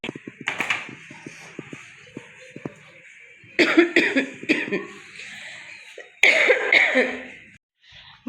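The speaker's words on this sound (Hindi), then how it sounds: "खांसी बहुत तेज़ है।" Several bursts of harsh, hacking coughs come in clusters, loud and close, separated by quieter pauses.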